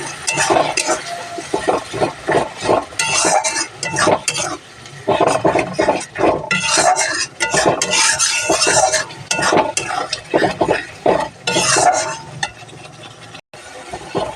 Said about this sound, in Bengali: জল দিয়ে একটু মশলাটা করে নিই।